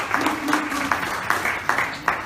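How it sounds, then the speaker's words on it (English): Audience at a 1 Million Cups gathering in Daytona Beach applauds the organizers, a room of scattered clapping with distinct sharp claps standing out in a loose rhythm, moderately loud. "Round of applause, please, for the organizers."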